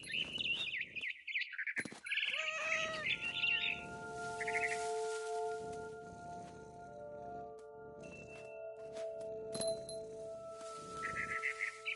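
Frightened barn swallow in What Remains of Edith Finch, bursts of rapid high chirps and tweets near the start and again at the end, close and loud, with a sustained tonal music bed and soft clinks between.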